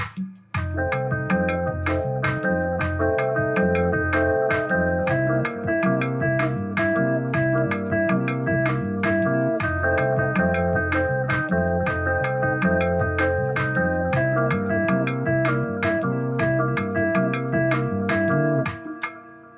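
A busy instrumental groove with steady drum hits and layered, dissonant chords, played continuously and loud for nearly twenty seconds before stopping abruptly.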